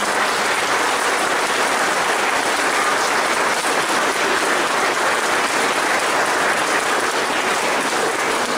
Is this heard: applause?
yes